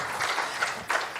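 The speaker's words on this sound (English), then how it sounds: "give them another round of applause" Audience applause at an Africa trade business summit, a brief burst of dense clapping from a crowd.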